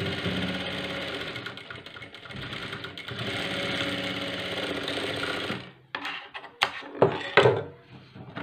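A sewing machine runs in a steady, fast whirring stitch along the sides of a blouse for several seconds, then stops and gives way to a few scattered knocks and handling clunks.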